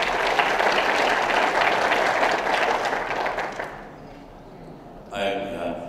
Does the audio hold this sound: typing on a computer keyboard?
no